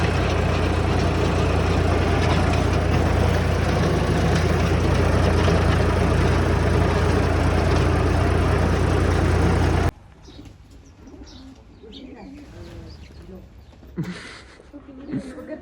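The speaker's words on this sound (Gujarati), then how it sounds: "ટ્રેક્ટર." A farm tractor engine idles in a loud, steady low drone for about ten seconds, then cuts off, leaving quieter background noise.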